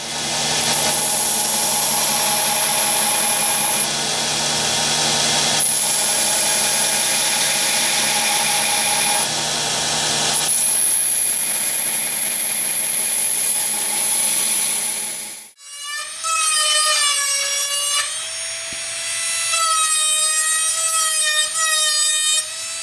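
Sustained high whine of a rotary tool piercing and refining a metal fountain pen with files and burrs, steady and loud for about fifteen seconds, then shifting to warbling, pitch-sliding grinding tones.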